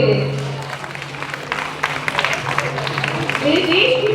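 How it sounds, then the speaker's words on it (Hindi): Applause from a school audience at a Republic Day event, a dense steady patter of claps lasting throughout, with a steady hum beneath and voices rising over it toward the end. "एक बार जोरदार तालियां सभी के लिए"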